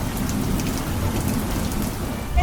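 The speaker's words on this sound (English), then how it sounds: "as soon as I came out it started raining." Steady rain falls outdoors in Bangalore, a dense continuous hiss of drops on surfaces at a constant level, with a low rumble and a brief louder thump at the very end.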